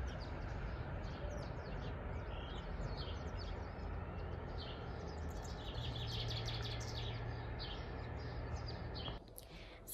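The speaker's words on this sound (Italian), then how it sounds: "Non so se sentite gli uccellini, che bellezza, che silenzio." Small birds chirp and tweet in the Italian countryside, many quick high calls scattered over a soft, steady background hush, fairly faint and with no voices.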